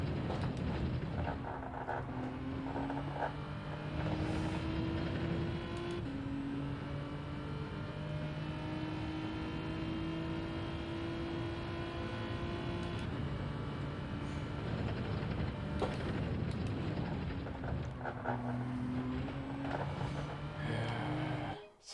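Race car in Gran Turismo 7 driving a lap, a steady engine drone that climbs and drops in pitch through gear changes and braking, with no voices.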